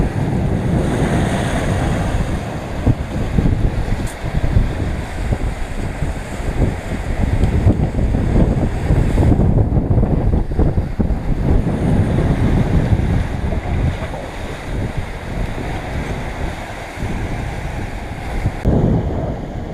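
Steady roar of wind and rushing waves aboard a sailboat surfing in 20 knots of wind on passage from New Zealand to Fiji, loud and continuous with gusting microphone buffeting and no voices.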